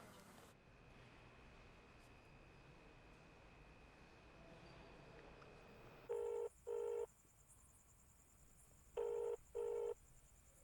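A telephone rings unanswered down the line: two pairs of short, bright double-burst rings separated by a long pause, heard faintly over a low background hiss.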